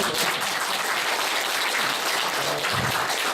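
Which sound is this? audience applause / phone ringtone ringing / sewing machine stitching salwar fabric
audience applause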